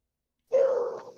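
A single dog bark or short yelp, about half a second long, bursts out loud and close after silence, with no talk over it.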